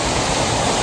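A waterfall on a hidden trekking trail near Mumbai gives a loud, dense, unbroken roar of rushing water that fills the whole moment, heard up close without any talk.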